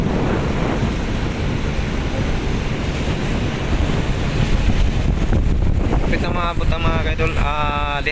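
Steady rush of wind and waves on open sea off Siargao Island with a boat's drone underneath; near the end a whistling, warbling tone cuts through the noise.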